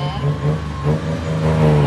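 A three-wheeled turbo tuk-tuk's engine holds a steady, near, high-revving drone throughout a fast ride through heavy Thai traffic, with no talk over it.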